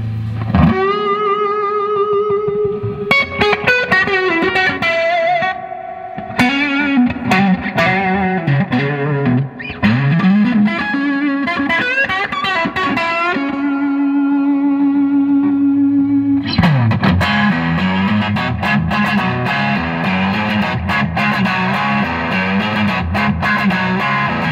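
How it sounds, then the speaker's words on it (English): A red 1979 Fender Stratocaster with black pickguard plays through a 1960s Fender Twin Reverb tube amp on the neck pickup, ringing out loud and close with sustained notes and chords, a thicker strummed section closing the passage. "we're out front with the 1979 Fender Stratocaster in red with the black guard"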